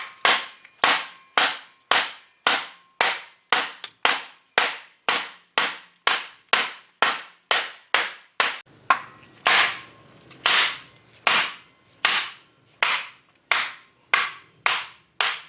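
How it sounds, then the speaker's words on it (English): A long series of sharp metallic hammer blows knocking out a wheel bearing on a Subaru Forester, evenly spaced about twice a second, loud and close, with a faint scraping underneath midway. "Now, just hammer this, it should pop out."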